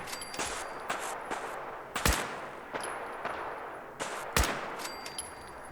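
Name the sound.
gunfire in Fallout 4 video game, shooting gunners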